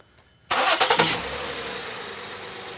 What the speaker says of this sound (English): Now when we start the engine, go ahead and start it up, Allison.